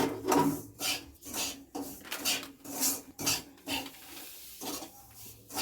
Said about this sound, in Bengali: এটাকে ভালো করে ভাজতে হবে।